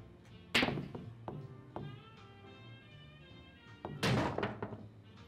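Pool balls in Yakuza 0 clack together during a combination shot on the 9 ball, with a sharp strike near the start and a louder cluster of knocks later, plus a few lighter ticks between.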